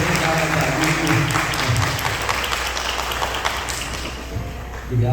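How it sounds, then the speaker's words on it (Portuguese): Audience applause for an arts teacher after a school play, a dense continuous clatter of clapping that holds steady for several seconds with faint voices underneath. "um agradecimento muito especial na salva de palmas"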